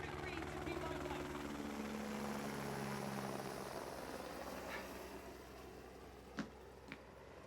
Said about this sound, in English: I'm sorry, Spinelli, the helicopter was so loud I didn't hear one word you said.